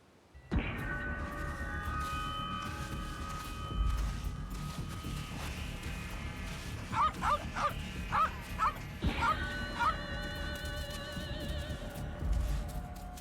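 A dog in the Yakuza 3 Remastered game barks and yips in a quick series of sharp calls over steady game music, with a noisy background underneath.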